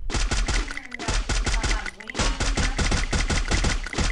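Rapid gunfire in the Free Fire video game, sharp loud shots in fast irregular bursts almost without pause, with a brief lull near the middle before the firing resumes.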